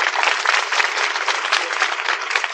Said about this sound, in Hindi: सुख ताली मार दो